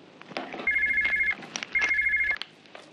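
A telephone ringing indoors, two long electronic trilling rings separated by a short pause, loud and close with faint background voices.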